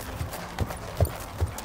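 A horse's hooves clip-clop at a steady walking pace, four evenly spaced soft thuds, moderately close and fairly quiet against a faint background hiss.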